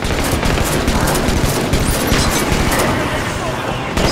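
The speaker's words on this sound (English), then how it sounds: "Watch the enemy fire!" Dense, sustained enemy gunfire in a Halo 5 Warzone Firefight battle, rapid automatic bursts and booms filling the whole stretch loudly, with game voice callouts mixed in.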